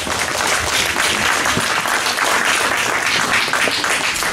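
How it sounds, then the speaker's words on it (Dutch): Loud, close applause from a children's audience at a kids' magic championship show greets a clown performer, a dense and steady burst of clapping throughout. "graag jullie aandacht en jullie applaus voor onze arme clown Melly"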